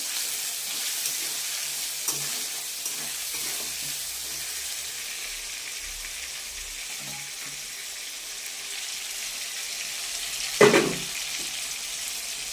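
Tomatoes fry with a pinch of salt in a pan for a cauliflower and paneer curry, a steady soft hiss of sizzling with scattered stirring scrapes and one louder clatter near the end.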